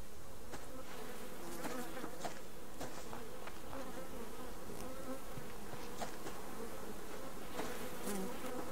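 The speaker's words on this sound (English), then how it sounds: "I can hear bees, Goose." Steady buzzing of bees near a beehive in the game Subsistence, a dense insect drone close by with scattered brief clicks and ticks, no voices.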